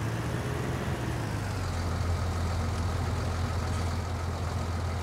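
Tractor engine in Farming Simulator 19 running steadily, a continuous low droning hum with a rough mechanical layer above it, constant and fairly loud, with no speech.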